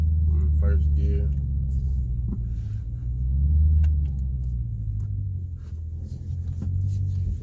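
A Dodge Challenger Scat Pack pulls away in first gear in sport mode. Its engine gives a deep, steady, loud rumble that swells slightly midway, heard from inside the car with a voice briefly at the start.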